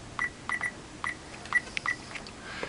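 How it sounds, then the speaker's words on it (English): Handheld RFID reader scanning file filing labels, giving short, faint electronic beeps in irregular quick bursts over a quiet room background. "you can hear the beeping of the reader"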